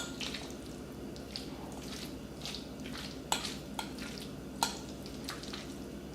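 Guacamole being stirred in a bowl, soft wet mashing and scraping with a few sharper clicks of utensil on the bowl, quiet and close with no talking.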